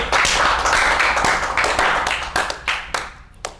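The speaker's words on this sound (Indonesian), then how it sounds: "Tepuk tangan dulu." Clapping on an Indonesian economics talk show, a short dense burst that thins into a few scattered, separate claps as it fades out.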